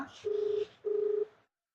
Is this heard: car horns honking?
no